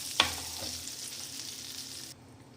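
Butter and oil sizzling as they heat in a cooking pan for restaurant-style matar paneer: a sharp crackle at the start, then a steady hiss that cuts off abruptly near the end, with no talk.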